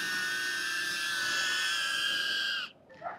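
A DJI Neo drone hovers close by, its propellers producing a steady, loud high-pitched whine with a buzzing tone that cuts off abruptly near the end, followed by a brief faint rustle.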